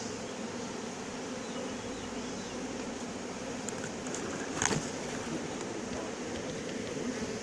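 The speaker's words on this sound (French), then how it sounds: "J'ai transféré la plupart des abeilles dans le carton." A swarm of honeybees being moved into a cardboard box outdoors in Villabé gives a dense, steady buzz at moderate loudness, with one brief louder rustle midway.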